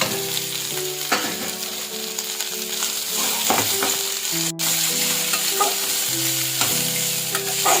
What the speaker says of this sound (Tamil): காடையை அதில் ஆட் பண்ணிக்கலாம்.